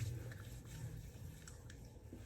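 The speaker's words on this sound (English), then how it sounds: "that weird noise was my dog licking the water from the shower" A dog laps water off a shower floor in quick, wet, squishy licks, faint and close in a quiet room.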